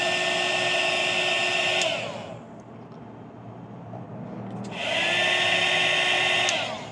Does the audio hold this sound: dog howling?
no